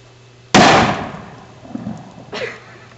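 A dry ice paint bomb bursts with a sharp, loud bang, its rumble decaying over a second, followed by faint rustling and a second smaller burst or splatter moments later.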